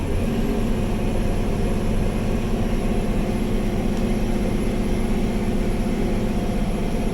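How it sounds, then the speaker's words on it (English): A heavy semi truck engine, pulling a tractor around 66,000 pounds with a load of fuel, lugs down at low revs on a hill, giving a steady, loud, throbbing drone with a regular pulse and no talk. "Oh, she's lugging down. We're gonna shift down."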